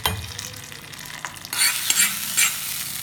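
Mustard seeds, fenugreek, two green chilies, red chilies and curry leaves tempering in hot oil, a crackling sizzle with stirring that turns brighter and louder halfway through, with sharp popping bursts; no voices.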